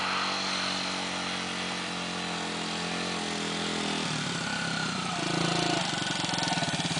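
A dirt bike engine drones steadily on a beginner's first ride, then its pitch drops and shifts into a rougher, pulsing note as the throttle changes near the end, fairly close and with no talking.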